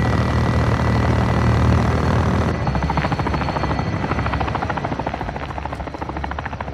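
Helicopter in the video game Call of Duty Modern Warfare 2, a loud, close, continuous rotor thrum that shifts to a choppier beat partway through, with no talk over it.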